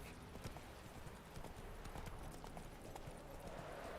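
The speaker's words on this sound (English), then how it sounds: "Whoa there, Roach." Horse hooves clip-clop steadily on the ground as the horse Roach trots in The Witcher 3 video game, a continuous rhythmic patter mixed with game ambience.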